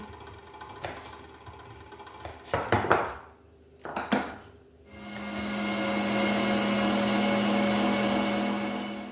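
Clattering kitchen clunks, then an electric meat grinder starts and runs steadily with a loud, even whine, grinding meat.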